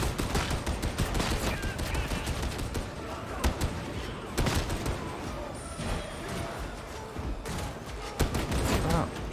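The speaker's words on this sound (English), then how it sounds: "Stop shooting at me." Gunfire in the video game Warhammer 40,000: Darktide comes as a dense, continuous barrage of loud rapid shots and bursts mixed with combat noise, with a voice partly heard beneath the din.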